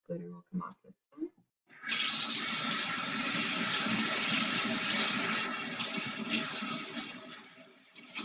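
Tap water running steadily into a sink to rinse soapy, glitter-covered hands, a loud continuous splashing stream lasting several seconds after a few brief knocks and clatters at the start.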